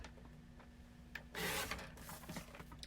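Card stock for an A2 card being trimmed gives a short, close scraping swish of a paper trimmer blade in the middle, amid quieter rustles and taps.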